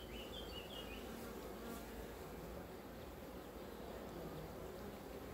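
Bees buzzing around a beehive during a visit, a steady close hum of many insects with occasional nearer fly-bys, no voices.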